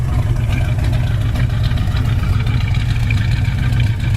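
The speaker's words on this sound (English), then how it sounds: "This car sounds awesome." A 1965 Pontiac GTO convertible with dual side exhaust idles at close range, a steady low rumbling engine drone with an even, unbroken pulse and no voices over it.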